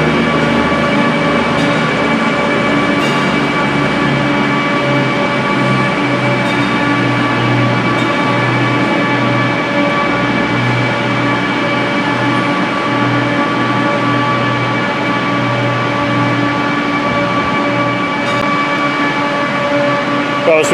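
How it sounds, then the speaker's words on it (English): A Virgin Voyager class 221 diesel train rolls into Birmingham New Street, a steady loud engine drone with rail rumble and faint clicks filling the platform throughout. "Here comes the Virgin Voyager, 221, 106."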